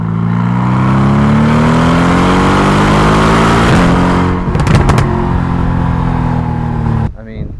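A powerful Mercedes-Benz CLA45 AMG engine revs up, its pitch climbing steadily before a few sharp bursts, then cuts off abruptly near the end.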